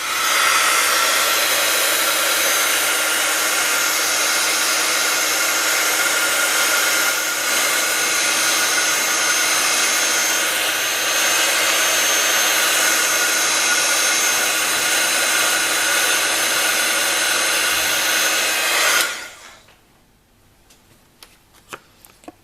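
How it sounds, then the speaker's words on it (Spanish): A heat gun blows hot air to dry distress ink and water on a craft piece, giving a loud, steady, close whooshing roar that cuts off abruptly near the end, leaving faint ticks and quiet. "le voy a aplicar un poquito de calor con la pistola de calor"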